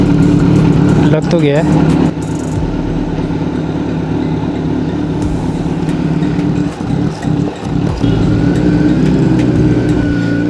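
A Kawasaki Z900 motorcycle with a dB killer fitted rides through city streets. Its engine gives a steady, close drone underneath continuous talking from the rider.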